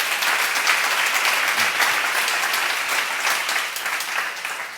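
Audience at a church seminar claps in a dense, sustained round of applause close by, steady for several seconds before tapering off slightly at the end.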